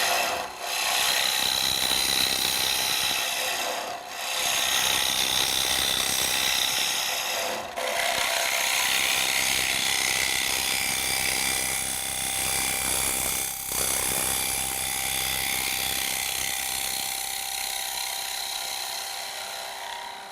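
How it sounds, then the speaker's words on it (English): A Robert Sorby TurnMaster tool scrapes wood on a lathe in traditional scraping mode, giving a loud continuous rasping hiss that runs nearly the whole time, broken by a few brief dips. "in traditional scraping mode, material can be moved very rapidly"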